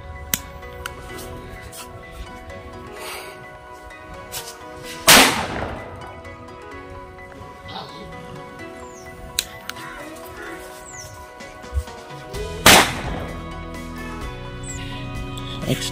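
Paper sound firecrackers: crackling and sputtering fizz runs throughout, broken by two sharp, loud bangs several seconds apart, each followed by scattered pops.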